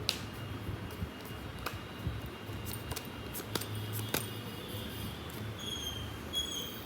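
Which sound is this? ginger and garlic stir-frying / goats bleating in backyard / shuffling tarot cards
shuffling tarot cards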